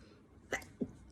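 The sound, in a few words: sneeze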